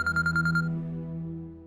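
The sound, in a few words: phone ringing for an incoming call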